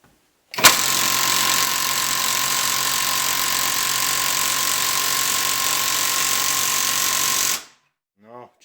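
A Fakita impact driver, a cheap knockoff of a Makita, runs in one continuous burst of about seven seconds, loud and close, with a steady whirring motor drone and a sharp start and stop.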